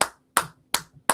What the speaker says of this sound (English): I'm hearing clapping.